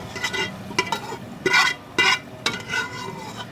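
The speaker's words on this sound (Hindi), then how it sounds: "इस तरह इसको हमने बिल्कुल स्लो आंच पे जो है ना भूनना है" Beef karahi meat fries in ghee over a slow flame as a utensil stirs it, giving a soft continuous sizzle broken by several louder scraping strokes against the pan, close by, with no talking.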